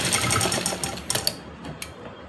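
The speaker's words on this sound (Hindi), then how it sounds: "इस सिलाई को पक्का कर लेना है हमने।" A sewing machine stitches the joint of elastic cut for an Afghani salwar, a fast, close rattling run that slows and stops with a few clicks near the end.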